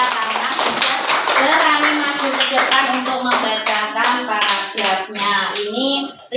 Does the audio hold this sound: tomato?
no